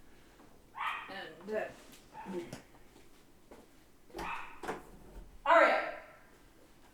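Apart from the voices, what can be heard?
dog barking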